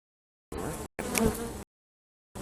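Honeybees buzzing at an open beehive, a loud close dense hum in separate bursts cut by sudden silences.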